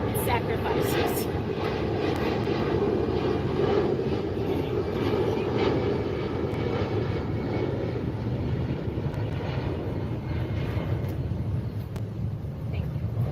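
A fixed-wing airplane passes overhead in a city setting, a steady broad engine roar that stays loud throughout, with a voice talking over it.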